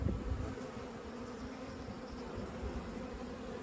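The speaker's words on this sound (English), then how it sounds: "These bees have organized themselves quite well." Honey bees in an open hive after being shaken in, a steady low buzzing hum that holds close and fairly quiet throughout.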